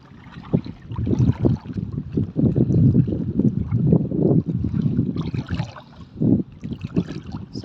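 Strong, gusty wind at the seaside buffeting the microphone outdoors, a continuous rushing roar with rising and falling bursts.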